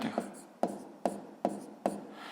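A fraction being written out by hand makes soft, close pen or marker strokes on a surface, a series of five evenly spaced scratchy taps in quick rhythm.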